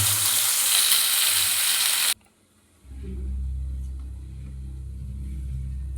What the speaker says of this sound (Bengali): আমি এবার মটরশুঁটির পেস্টটা তেলে দিয়ে দিলাম